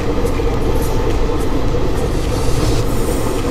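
Vasco da Gama–Amravati Express (18047) running on the Kolkata–Goa route, a steady loud rumble of wheels and carriages with faint rail squeals, heard from on board with no talking.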